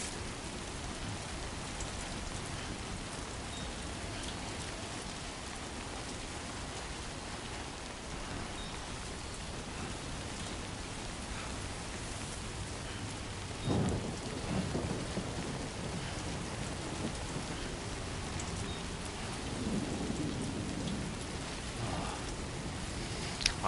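Steady heavy rain pours in the video game Death Stranding 2, with a low roll of thunder rising midway and another rumble near the end, filling the whole stretch with dense, even hiss.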